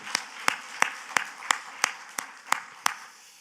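Church congregation clapping together during a worship service, heard as nine sharp, evenly spaced unison claps in a steady rhythm, crisp and fairly close, with quiet gaps between them.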